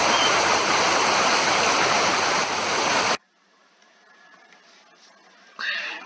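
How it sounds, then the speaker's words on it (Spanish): A creek flowing over a ford on Angostura creek in Valle Seco, heard as a loud, steady rush of water that cuts off abruptly halfway through, leaving a faint background and a short sharp sound near the end. "Acá vemos el foro en el arroyo Angostura en Valle Seco"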